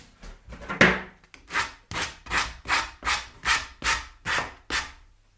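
A sanding block rubs back and forth across a wooden tabletop while a mitre saw stand is being built, about ten steady, rhythmic rasping strokes, close up and alone.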